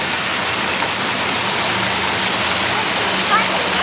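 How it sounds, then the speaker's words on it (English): Pool waterfalls at a resort in Waikoloa, Hawaii, pour in a steady, loud, even rush of falling water that holds unchanged throughout. "And lots of waterfalls that you can swim under, actually, or around."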